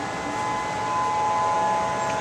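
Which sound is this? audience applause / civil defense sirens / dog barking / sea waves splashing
civil defense sirens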